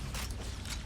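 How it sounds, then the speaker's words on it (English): Weapon reload in Halo 1, a short burst of mechanical clicks and ratcheting metal sounding close and fairly loud over game background noise, with no talk. "Reload again."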